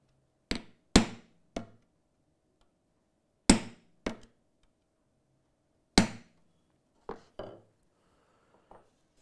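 Sharp metallic hammer strikes on a steel punch setting handsaw teeth, about ten distinct taps in irregular clusters with short pauses between, close and clear with no talking.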